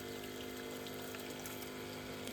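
Water is pumped steadily into a tractor tyre, a constant near, loud gushing and mechanical pump drone with a hum, unbroken throughout with no voices.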